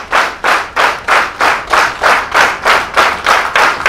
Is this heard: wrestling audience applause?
yes